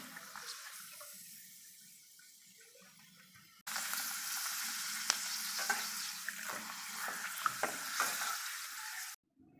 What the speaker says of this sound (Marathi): आता आपण हे पापड काय करूया तळून पाहूया की एकदम गरम तेलात